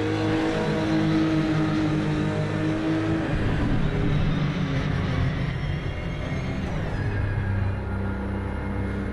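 A Porsche engine in a racing video game drones steadily and loud throughout, with revving shifts in pitch and a continuous low rumble, no voices.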